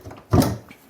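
A small door swings open with one short wooden thud and scrape, close and fairly loud, quickly fading into a quiet room with no talking.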